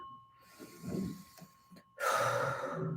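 Several deep, heavy breaths during a movement-based energy healing session, a few slow exhales and sharp inhales ending in one loud, forceful gasp close by, with a faint steady tone ringing underneath.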